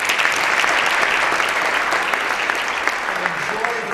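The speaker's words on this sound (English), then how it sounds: "Give yourselves one more round of applause," A concert audience gives a steady, dense round of applause, broad and continuous throughout with no breaks, filling the hall.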